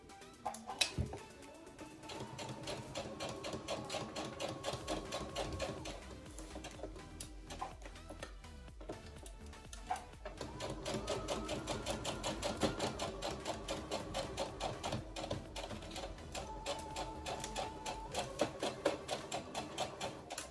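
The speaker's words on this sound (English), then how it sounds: "Put your sewing machine at the widest stitch length you can, and do not back stitch." A sewing machine runs steadily for a long stretch, basting a wide straight stitch on dress fabric with a close, even mechanical whir and rhythmic needle ticking and only brief pauses.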